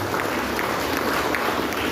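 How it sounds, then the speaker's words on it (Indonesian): A crowd at a school launch event applauds the students, a dense, even wash of many hands clapping for two seconds, loud and close. "Tepuk tangan buat siswa kita."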